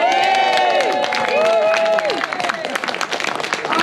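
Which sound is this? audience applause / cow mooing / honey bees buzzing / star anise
audience applause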